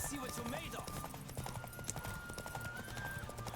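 Horse hooves gallop in a steady, rapid clip-clop rhythm during The Witcher 3 gameplay, loud and continuous under game sound, with a brief whinny and a voice talking over it.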